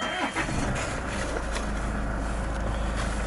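A Land Rover Freelander 2 TD4 diesel starts from a push button and runs at a low, steady rumbling idle, heard from inside the car with no talking.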